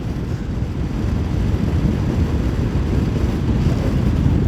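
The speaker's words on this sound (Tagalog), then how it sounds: "sinasapul ako ng hangin" Steady, heavy wind roar buffeting a motorcycle rider's microphone during a night ride on an ER150Q, a constant low rumble with no breaks.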